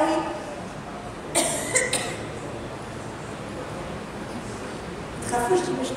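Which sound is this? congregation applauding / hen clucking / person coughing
person coughing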